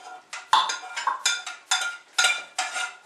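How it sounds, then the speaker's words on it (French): A spoon scrapes and clinks through fried lardons and potatoes in a pan, a steady series of near stirring strokes roughly every half second, with no talking. "Donc bien entendu, on remue. On intègre bien les lardons aux pommes de terre."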